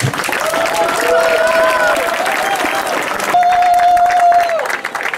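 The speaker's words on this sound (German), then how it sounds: "einen ganz, ganz kräftigen und lauten Applaus" An audience at a 100 km race in Vienna applauding volunteers, a dense, loud, sustained clapping crowd with scattered voices and a whistled tone rising through it.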